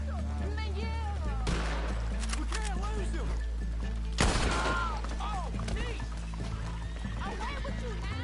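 A horse neighs and whinnies several times in the video game Red Dead Online, with game ambience behind it and a player talking over it.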